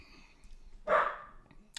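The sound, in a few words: dog barking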